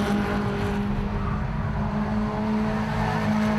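BMW Compact Cup race cars on gas shocks and Marangoni tyres with standard gearboxes howl toward Coppice Corner at Donington Park, a loud steady engine drone with a sustained tonal whine and no voices.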